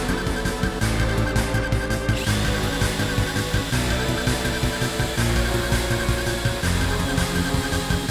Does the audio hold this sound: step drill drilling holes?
yes